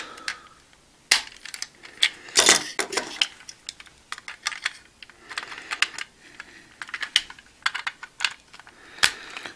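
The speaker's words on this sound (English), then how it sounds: "they will clack together just because they're thicker because of the spring-load gimmick in them" Thick, spring-loaded plastic wing parts from a model kit clack together in quick, sharp, close-up clicks and taps that come in irregular clusters, with no talking.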